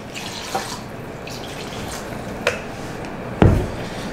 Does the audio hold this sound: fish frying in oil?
no